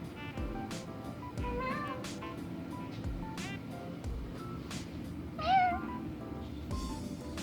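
A domestic cat meows several times outdoors while someone is working in a garden, with short, clear mews close by over a steady ambient hum.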